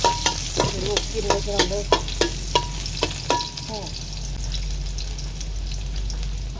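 Basil pork with cabbage is stir-fried in a pan, a steady sizzle under rhythmic scraping strokes of a utensil against the metal, about a dozen in the first four seconds, then sizzling alone; someone speaks briefly.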